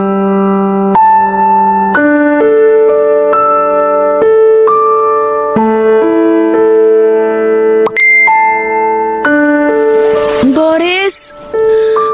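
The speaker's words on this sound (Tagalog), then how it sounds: "Ang ingay kaya ng phone mo." A mobile phone gives off a rapid run of chat notification chimes, bright tonal pings and dings landing one after another, loud and close, ending in a brief burst of rustling noise.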